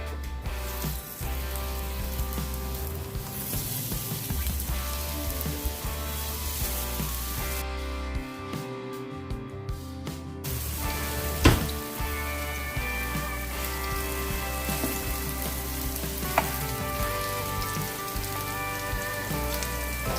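Food browns in a hot frying pan, a steady loud sizzle and crackle running throughout with occasional sharper pops and spatters.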